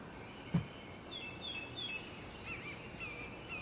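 Faint outdoor birds give several thin, high chirps spread across a few seconds, with one short knock near the start and a quiet ambient hiss throughout.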